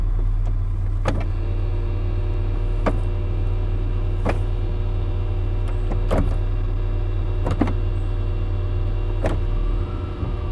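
A car drives along with a steady low engine and road drone, and sharp knocks or clicks come at roughly one- to two-second intervals as it makes noise; it sounds close, inside the cabin, and no one talks.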